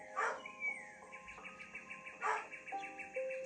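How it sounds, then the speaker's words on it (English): Small dog barking faintly in the background indoors, a couple of sharp yaps spaced apart amid quiet room noise. "if you can hear her barking in the background."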